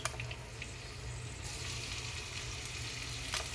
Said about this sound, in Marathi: त्याच्यानंतर मिरची मी चिरून ठेवलेली 1, त्यातली थोडी त्यात घालत आहे।